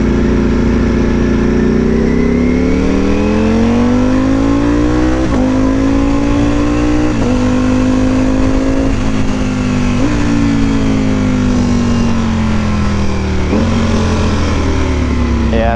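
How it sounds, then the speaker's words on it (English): A Ducati Panigale V4 sport motorcycle engine revs hard at high RPM, very loud and close, its pitch climbing and settling through several throttle pushes with a continuous raspy roar and no talk. "the bike doesn't really sound that great in higher RPMs"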